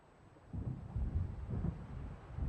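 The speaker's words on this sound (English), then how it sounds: "It seems there's a storm coming." Thunderstorm in the video game Alan Wake, with low rolling rumbles of thunder swelling and pulsing over a constant hiss of rain and wind, fairly faint.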